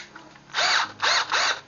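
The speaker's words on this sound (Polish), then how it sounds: "To jest wkrętarka" A PowerUP 10.8V cordless drill driver whirs in three short high-pitched bursts, revving up and stopping between each, close and loud with no talk.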